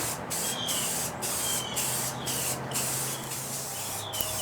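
Short hissing bursts of matte enamel clear coat from a spray can, about eight evenly spaced sprays over wood, steady and close with a faint low hum underneath.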